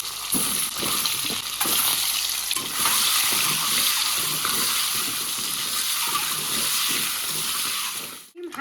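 Steady, loud sizzling of eggs coated in salt and turmeric frying in hot oil in a wok fills the whole stretch, with occasional stirring scrapes and no talking.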